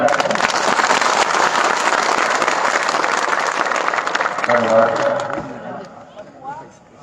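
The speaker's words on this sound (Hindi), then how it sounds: "इसके लिए एक बार जोर से आप सभी के लिए तालियां हो जाए।" A rally crowd applauds in a dense, loud wash of clapping that holds steady for several seconds, then thins and fades while a voice speaks over the tail.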